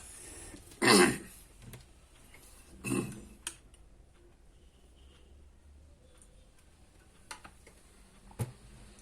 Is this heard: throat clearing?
yes